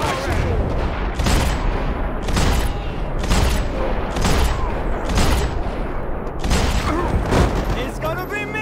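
Heavy gunfire in the video game Max Payne 3, repeated loud bursts and booming shots in quick clusters, with a voice shouting over the shooting.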